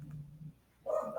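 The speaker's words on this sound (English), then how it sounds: "Sorry about the barking in the background." A single brief dog bark rings out near the end after a low murmur, short and fairly faint.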